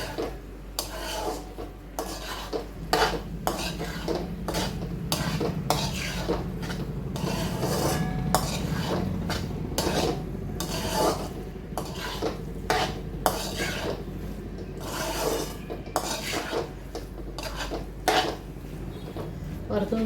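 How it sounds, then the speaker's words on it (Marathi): Prawns sautéing in a pan for a home-style spicy prawn masala, with a spoon scraping and clanking against the metal in repeated strokes over a soft, steady sizzle, close and fairly loud. "ही पण चांगली परतून घ्यायची आपल्याला कोलंबी"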